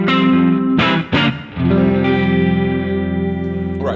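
Electric guitar through a Browne SSHAC chorus pedal set for deep modulation with the blend leaning dry, playing sustained chords with a couple of brief gaps, loud and close with a gently wavering shimmer.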